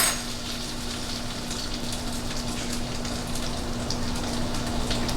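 French toast sizzles in a hot pan, a steady close crackle and spatter that runs evenly throughout with a faint hum underneath and no talking.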